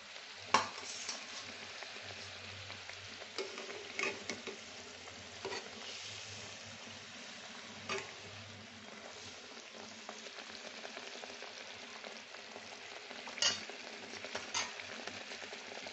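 Hilsa fish pieces coated in salt and turmeric frying in a pan, a continuous close hiss of hot oil with occasional clinks and stirring scrapes, steady and unbroken for the whole stretch, no talk.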